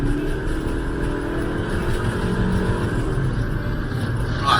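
A 2021 Proton Iriz Active engine drones steadily and loudly throughout, holding a sustained hum as it accelerates under load, with no voices.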